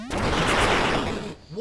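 A ricocheting laser gun fired in Duck Game, one loud, dense crackling blast that holds for about a second and then cuts off, followed by a faint trailing tone.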